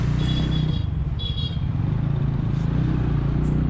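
Bajaj Pulsar N160 motorcycle ridden with a pillion through city traffic, a close, steady low engine drone with faint chirps and clatter from the street around it.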